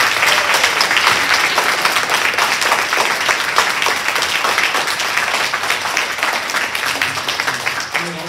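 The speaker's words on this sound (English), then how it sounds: "So can we get a round of applause?" A student awards ceremony audience at a school of journalism bursts into sustained, loud applause, dense clapping that holds steady for about eight seconds before easing slightly at the end.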